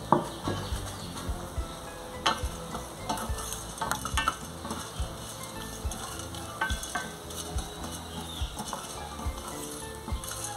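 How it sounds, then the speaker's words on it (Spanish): Cinnamon, cloves and allspice browning in a pan for a Guerrero-style pork asado, a continuous crackling sizzle broken by regular stirring scrapes and light taps throughout. "vamos a empezar a dorar los condimentos. Vamos a poner ahí la canela, los clavos y las pimientas gordas."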